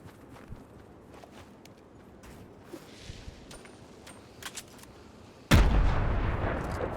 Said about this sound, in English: Get that grenade in there, see if that changes his mind about that build